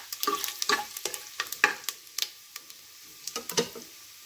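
Whole spices with asafoetida sauté in a pan for a drumstick pulao. A soft sizzle sits under repeated sharp clicks and scrapes of a spatula against metal in an uneven rhythm, heard close and without speech.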